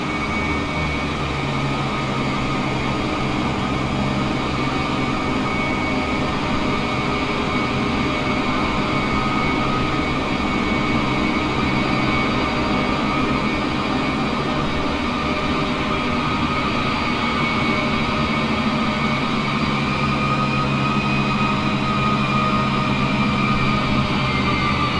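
A Boeing 787-10 Dreamliner taxis toward the runway in Microsoft Flight Simulator, its jet engines giving a steady, loud, unbroken drone with a constant whine layered over a low rumble throughout.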